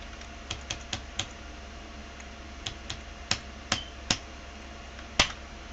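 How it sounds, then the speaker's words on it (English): Keystrokes on a computer keyboard while entering commands in a Linux terminal: about a dozen crisp, isolated taps in loose clusters over a quiet background hum, with no talking. "You're going to type in your password."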